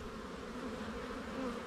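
Honey bees in a hive box, a soft continuous buzzing hum held close and steady without any voices.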